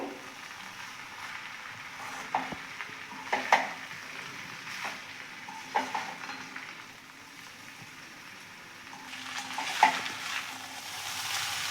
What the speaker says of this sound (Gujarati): હવે આપણે આને હળવે હાથે મિક્સ કરી લઈશું